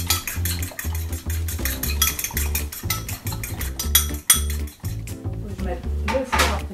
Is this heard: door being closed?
no